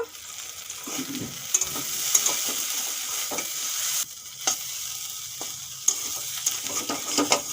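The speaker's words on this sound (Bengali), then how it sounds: "শাক ভাজা হয়ে গেছে" Pipul greens and potatoes fry together in a pan, a steady close sizzle punctuated by sharp spatula scrapes and knocks against the pan as they are turned over, with no voices.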